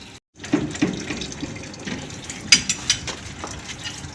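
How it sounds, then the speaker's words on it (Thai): Water drains out of an old, rusted iron hot-water pipe, splashing and trickling nearby with a few light metallic knocks, and no talking. "แล้วเอาน้ำออกให้ออกให้หมดก่อนนะครับ"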